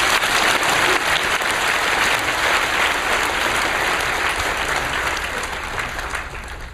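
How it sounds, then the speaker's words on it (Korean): A church congregation breaks into sustained applause, a dense, loud wash of clapping that holds steady for several seconds before gradually thinning and fading toward the end. "다시 한번 축복의 박수"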